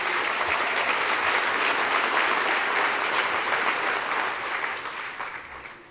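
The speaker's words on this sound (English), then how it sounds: "How about another round of applause for our film and video directors?" Sustained audience applause fills an awards ceremony hall at the Pro Football Hall of Fame, a dense, steady wash of clapping that holds strong before gradually thinning toward the end.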